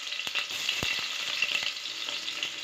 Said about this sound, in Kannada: ಉದ್ದುದ್ದವಾಗಿ ಅದನ್ನು ಹಾಕ್ಕೊಂಡು ಫ್ರೈ ಮಾಡ್ಕೊಳ್ತಾ ಇದ್ದೀನಿ